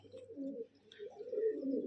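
Pigeons cooing softly nearby, a low continuous rolling coo with slight swells, quiet and alone without talk.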